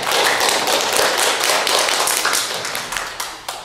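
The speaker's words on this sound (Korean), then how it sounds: "예술가다운 발표를 해주신 우리 주전 선생님께 큰 박수 한번 드립니다." Audience applause for a presenter at an expert forum on aging: a dense, steady patter of many hands clapping close by, thinning and fading over the last second with a few scattered final claps.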